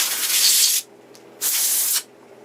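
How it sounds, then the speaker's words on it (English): Compressed-air duster sprays into an electrical switch inside a Rohde & Schwarz APN-62 audio signal generator under repair, giving two close, loud hissing bursts of about three-quarters and half a second, separated by a brief quiet gap. "I'll give it a blow out with the air duster just in case there's anything in there"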